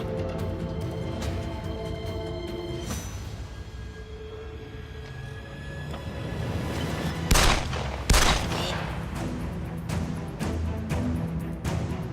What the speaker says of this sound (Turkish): Nereden geldi silah sesi?